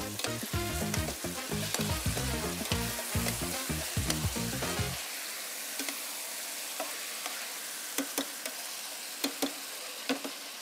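Fava beans fry with garlic in a pan, loud sizzling with stirring and scraping for several seconds, then a steadier hiss dotted with small pops and ticks.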